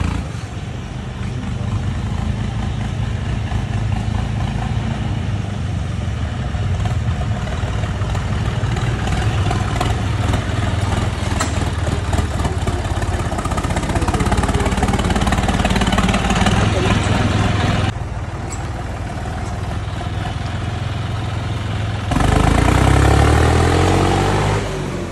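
A tractor engine idling outdoors, a steady low rumbling drone that runs throughout with a brief surge of revving near the end, while people talk over it.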